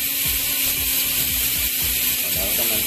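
An EEC Race bicycle wheelset with ceramic bearings spinning freely, its freehub ratchet giving a dense, continuous, rapid clicking buzz up close, loud and steady throughout, no talk.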